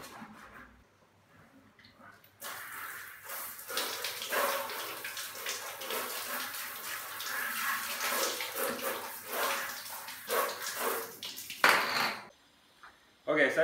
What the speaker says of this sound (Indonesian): Airnya yang keluar kotor juga.